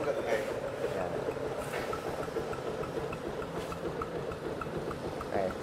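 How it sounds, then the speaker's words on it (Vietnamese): A Yamaha Exciter 135 motorcycle engine idles steadily with a low, even rumble throughout, while a person talks over it. "cái máy nổ thầm thì ha, thì thầm"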